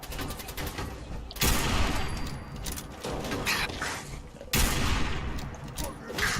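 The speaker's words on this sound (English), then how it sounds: "That sounds like a real gun." Gunfire in the video game Fallout 4, bursts of rapid loud shots with sharp onsets around a second and a half and four and a half seconds in, over continuous crackling battle noise.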